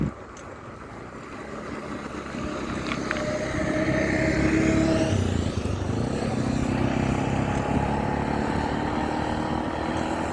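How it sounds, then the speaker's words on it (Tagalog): A motorcycle with a rough-sounding engine passes along a quiet road, its drone swelling loud and close then easing off, heard over steady wind and road noise from a moving bicycle. "Pangit na yung tunog yung motor na yan."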